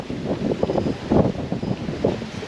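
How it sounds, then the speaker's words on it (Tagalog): Steady wind ahead of an approaching typhoon rushes and buffets the microphone in uneven gusts, a continuous rumbling roar with no voices. "Mahangin ngayon kaya may paparating na bagyo sa amin"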